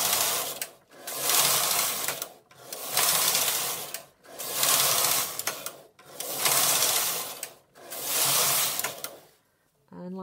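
Silver Reed knitting machine carriage running along the needle bed, a loud mechanical whirring and rattling pass repeated five times in a steady back-and-forth rhythm, each stroke about a second and a half with short pauses between.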